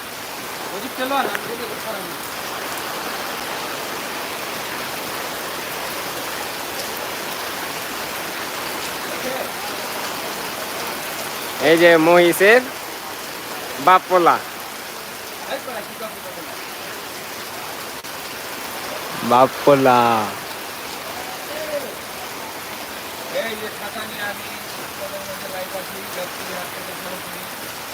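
Constant downpour drums and hisses across the open Gabtoli cattle market for the whole stretch, broken by several short bursts of nearby male speech.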